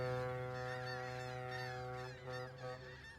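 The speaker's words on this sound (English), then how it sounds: "the beautiful sound of seagulls" Seagulls cry in Euro Truck Simulator 2, faint repeated honking calls over a steady humming background tone.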